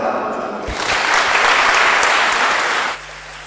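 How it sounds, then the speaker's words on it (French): A church congregation claps together in a reverberant cathedral during a confirmation mass, a dense burst of applause lasting a few seconds before fading to quiet room tone. "Voilà, nous allons applaudir."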